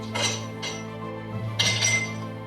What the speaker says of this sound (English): To serve the lemonade into a serving glass, I'm adding in some ice cubes.